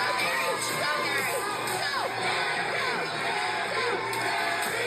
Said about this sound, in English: The crowd is chanting for Mary